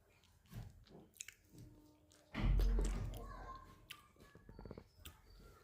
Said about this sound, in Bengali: শীতের দিনের কাঁঠাল, শীতের দিনেও কাঁঠাল খাইতে মজা।